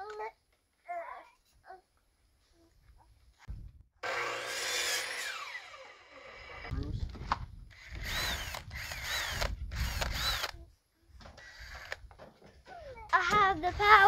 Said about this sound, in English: Yep, we gotta drill these feet on.